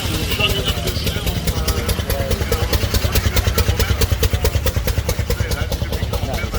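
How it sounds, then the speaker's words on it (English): An old International truck chugs up a hill at a car show, its engine pulsing in a steady, rapid low rumble with clattering over it, loud and continuous throughout. "you'll see that international chugging up this hill"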